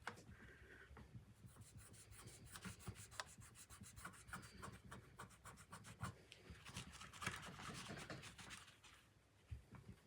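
A damp cloth rubbed repeatedly over a Telecaster guitar body, quiet close rhythmic scrubbing strokes in quick succession, with no voices.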